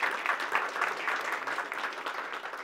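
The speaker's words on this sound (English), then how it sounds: "Give him a great big round of applause." Sustained audience applause at a fathers and sons breakfast gathering, a dense steady patter of many hands clapping for several seconds without speech.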